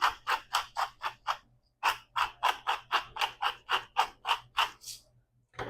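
A pepper mill cranks out black pepper in a quick run of about a dozen rhythmic ratcheting grinds, then a short pause and another steady burst of gritty clicks, close and clear with no talking.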